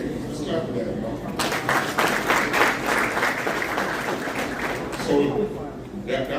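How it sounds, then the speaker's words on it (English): An audience at an HBCU job fair event breaks into applause, a dense burst of clapping that swells after a quieter start, holds for several seconds, then thins as a voice comes back in. "Okay, let's clap for that"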